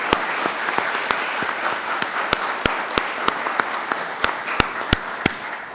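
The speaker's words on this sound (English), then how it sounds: "if we can just give him a round of applause to acknowledge him." Audience at a township council meeting applauding to honor a police detective, loud steady clapping from a room of people that holds constant throughout, with distinct sharp individual claps standing out.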